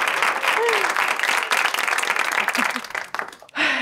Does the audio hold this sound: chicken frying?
no